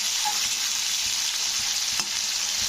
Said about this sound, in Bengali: তো চলো পেঁয়াজগুলোকে একটু লাল লাল করে ভেজে নিই।